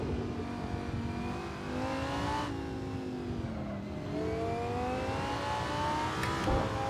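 A race car engine hums steadily in a sim racing game, its harmonic pitch rising and dipping with throttle while a McLaren runs close behind; loud and continuous throughout, with no talk.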